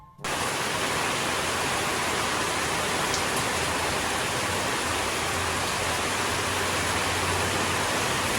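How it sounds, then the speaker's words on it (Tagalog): Heavy rain pours down in a dense, unbroken hiss that starts abruptly and stays loud and steady throughout. "napakalakas po ng ulan. Biglang buhos na naman ang malakas."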